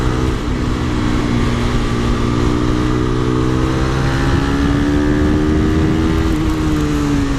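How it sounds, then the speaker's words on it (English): Modified KTM RC390 motorcycle cruising on a highway, its exhaust giving a steady, loud drone with a slight pitch rise and dip, plus rushing wind noise throughout. "right off the back the only thing you feel is the exhaust sound, which is absolutely stunning"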